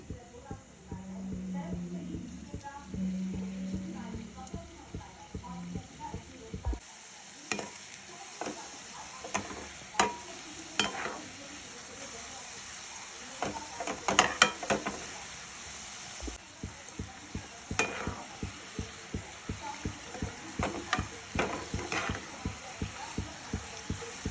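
Leftover chapati dough fries in hot oil until it turns reddish, giving a steady close sizzle broken by scattered crackles and occasional stirring clicks.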